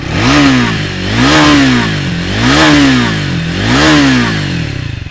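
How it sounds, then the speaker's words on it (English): A Triumph Speed 400 motorcycle engine is blipped hard toward its red line in four rising and falling bursts. The throaty exhaust sounds close and loud, and no one speaks. "And that's how it sounds closer to its red line."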